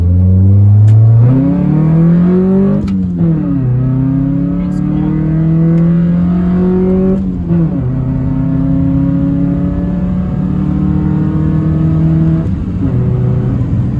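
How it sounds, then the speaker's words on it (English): A 1994 Honda Accord coupe drives and accelerates, its engine climbing through repeated rising pitch sweeps with brief dips between gear changes, loud and close throughout. "This is one of the first drives of the car ever since I got the front end together"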